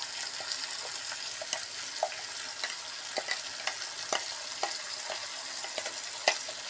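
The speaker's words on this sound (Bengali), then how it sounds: "দেখো পেঁয়াজ রসুন আদার পেস্ট আমি দিয়ে দিচ্ছি" Onion, garlic and ginger paste sizzles steadily in hot oil, a soft continuous crackle broken by scattered pops and sharper spits, close and fairly quiet with no voices.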